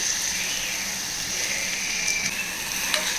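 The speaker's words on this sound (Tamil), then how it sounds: "ஆனியனோட ஃப்ரை பண்ணிடுவோம். ஃப்ரை ஆகட்டும்." Onions frying in a pan for vegetable kurma, a steady close sizzle with faint scraping stirs now and then, no talking.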